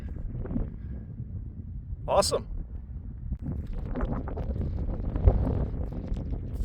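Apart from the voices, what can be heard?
wind blowing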